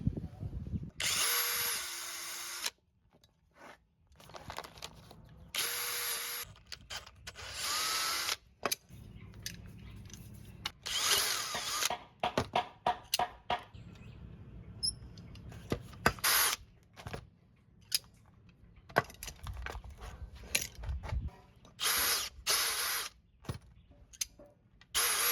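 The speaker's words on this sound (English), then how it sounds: "I'm going to have to drill all of these out, or at least all the ones I need to use." A power drill bores out old nails from wooden boat planks in a tight hull space, running in repeated bursts of whirring with pauses, clicks and knocks in between, close and fairly loud.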